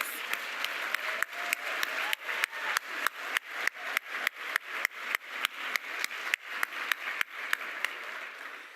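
At a Black Scholars Day ceremony, a seated audience applauds students with steady, sustained clapping, sharp individual claps standing out through a continuous wash of applause.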